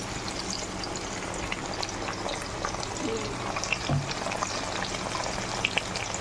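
Potatoes frying in a pan as tomatoes go in, a steady close sizzle with small stirring clicks and bubbling spits throughout.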